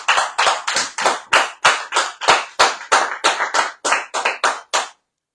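An audience at a lively radio café show claps in a steady, even rhythm, about sixteen crisp claps in unison that end abruptly, close and clear with no talk over them.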